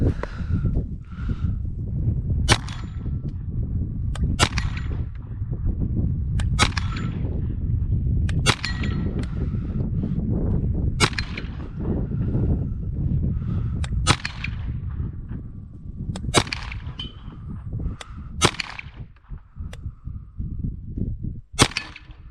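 Sharp gunshots from a Ruger PC Carbine ring out at an outdoor range, about ten evenly spaced reports each trailed by a brief echo, over steady wind and low background rumble.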